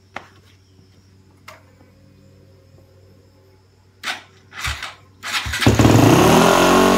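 A Z machine engine cranks and fires on its first start, sputtering in a few bursts before catching and running loudly with the idle turned up, a rough steady roar filling the end.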